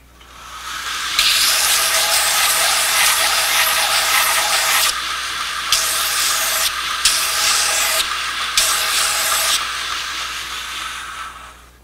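A belt sander whirs steadily while knife handle scales are pressed and moved against the running belt to contour them, giving a loud continuous abrasive hiss that swells and dips as contact changes, with no talking.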